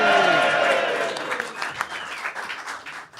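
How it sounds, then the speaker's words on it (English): An audience applauds listener Dave Stebbings at a live Gareth Jones On Speed show, a loud burst of clapping that tails off into scattered claps as voices come in. "So a round of applause for our ultra listener, Dave Stebbings."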